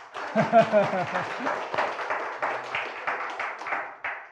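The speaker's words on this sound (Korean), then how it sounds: "박수 한번 쳐주십시오" A church congregation at a Sunday sermon breaks into applause after a brief spoken phrase, a moderate, steady patter of clapping that carries on to the end.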